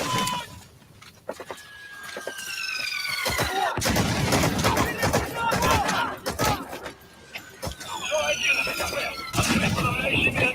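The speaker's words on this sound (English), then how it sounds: "they're throwing grenades, shooting mortars at me" Grenade blasts and mortar fire in Metal Gear V gameplay, repeated sharp bangs and crashes with squealing effects in a busy, chaotic battle mix, loud and dense, with a person talking over it.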